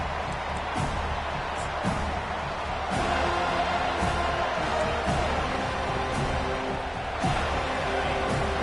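A football stadium crowd roars just after a touchdown and touchback at a Virginia Tech at Florida State game, a broad, continuous wall of cheering with occasional sharper thumps and bursts rising out of the din.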